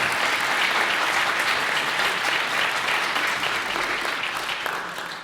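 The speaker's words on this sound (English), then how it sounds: "let's give everybody on the panel a nice round of encouragement and applause" An audience at a public forum applauds a panel, with dense, even clapping throughout that stays loud and full before easing slightly at the very end, with no voices standing out above it.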